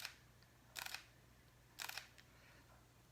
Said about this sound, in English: That's the mechanical shutter on the X-T3.